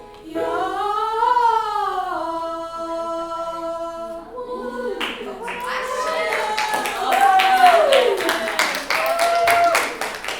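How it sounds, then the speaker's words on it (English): Treble choir students in a high school rehearsal burst into scattered clapping right after singing a sustained chord; the sharp, uneven claps run through the second half, mixed with chatter and voices. "Why y'all clapping?"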